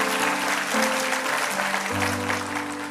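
A church congregation applauds for Jesus, a short burst of clapping blended with sustained keyboard or organ tones.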